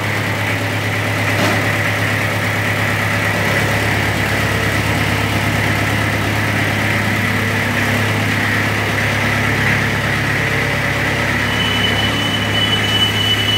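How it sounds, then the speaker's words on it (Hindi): An antique Mahindra B 275 tractor engine runs at a steady idle, a loud, close, continuous low rumble with an even drone and no talk. "कितना हैवी पिकअप है इस ट्रैक्टर का"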